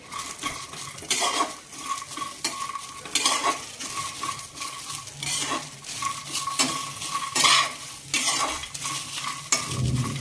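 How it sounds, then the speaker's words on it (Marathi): Mint being stirred into a chutney mixture in a pan: repeated rhythmic scraping and clinking strokes of a utensil against the pan, over a soft sizzle. "आता आपण याच्यामध्ये पुदिना घालूया आणि परत व्यवस्थित मिक्स करू"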